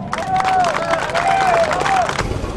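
A crowd at a Harley-Davidson show bike festival applauds and cheers, a brief burst of clapping and shouts with a whistle running through it, fairly close.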